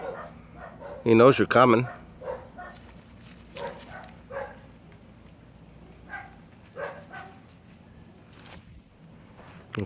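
Dogs bark in a short, loud burst near the start, with faint yips and whimpers scattered afterward, while people talk throughout.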